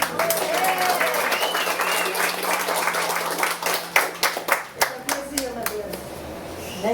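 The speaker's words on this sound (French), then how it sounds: "qu'on applaudit" Wedding reception guests applauding, dense clapping that thins into scattered individual claps toward the end, with voices talking over it.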